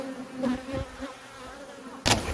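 Carpathian honey bees buzzing around their hives, a steady close hum with a louder burst near the end.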